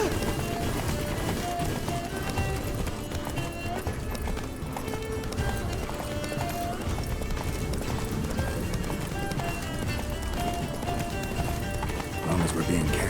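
A horse gallops in the video game The Witcher 3, its steady clip-clop of hooves running under constant game music and effects, with voices talking over it.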